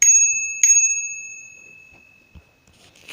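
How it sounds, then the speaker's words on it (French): A small bicycle bell gives two bright, clear rings in quick succession, each one fading out slowly, followed by faint handling knocks and then one more soft ding. "La petite sonnette."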